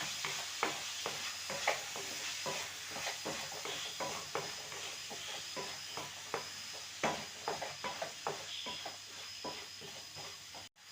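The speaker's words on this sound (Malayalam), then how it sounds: "പിന്നെ തക്കാളി ഇട്ടിട്ട് നല്ലോണം വഴറ്റി കൊടുക്കാം." Tomatoes, chilies and onions sautéing for chicken biryani, a steady soft sizzle under repeated spoon scrapes and taps against the pan, fairly quiet and close with no talking.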